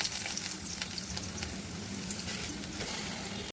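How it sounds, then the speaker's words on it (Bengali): Soya chunks frying in hot oil in a kadai, giving a dense, steady sizzle with fine crackle throughout, close and even, with no talk. "নেড়ে চেড়ে হালকা একটু ভাজা ভাজা করে নেবো"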